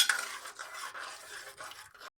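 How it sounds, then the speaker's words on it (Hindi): Chicken charsi karahi being stirred in a pan with garlic-ginger water, giving a close run of scraping, sizzling strokes that fade out after about two seconds, with no talk. "और इसकी बहुत ही अच्छी तरह से भुनाई करेंगे।"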